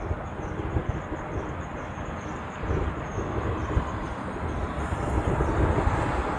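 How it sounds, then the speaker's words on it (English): Boeing 717 jet departing from the reef runway in Hawaii, a distant broadband engine roar building gradually under a steady high insect-like whine, with no talking. "we're gonna flip around and get that 717 departing off the reef runway"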